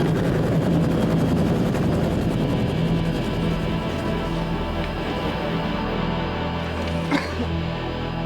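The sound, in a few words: helicopter hovering close overhead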